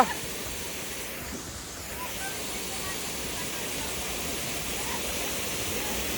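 The Jalpari waterfall near Manahari, Nepal, gives off a steady broadband rush of falling water, constant and fairly loud throughout, with no clear voices above it.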